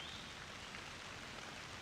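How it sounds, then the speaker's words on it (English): Light rain drizzling in Ohio hill country woods on a cool morning, a soft, even hiss of fine drops with no distinct patter, steady and faint throughout with no one talking. "It's a rainy, drizzly morning."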